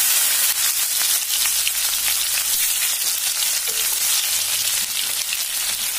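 Onions frying in hot oil in a kadai, a dense, steady sizzle that crackles close up and carries unbroken from start to finish with no voices.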